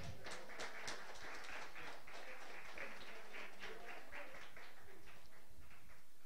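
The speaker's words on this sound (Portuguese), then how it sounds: "Dá uma salva de palmas, Senhor" A church congregation claps in sustained applause, a dense, even patter of many hands heard fairly quietly throughout.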